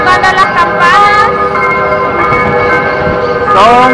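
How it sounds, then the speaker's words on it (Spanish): Cathedral bells in the historic centre of San Salvador ringing at five in the afternoon, repeated clanging strikes with long ringing tones over street traffic, while a person talks nearby. "De la catedral. Ya están tocando las campanas."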